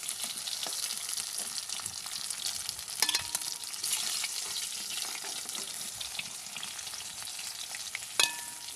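Fish pieces fry in a pan of hot oil with a dense, continuous close-up sizzle and crackle, joined by a couple of sharp utensil clinks.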